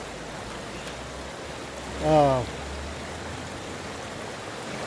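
Water runs steadily through a sluice box set in a river, a continuous close hiss and rush, set slow for gold prospecting, with a brief tonal sound breaking in partway through.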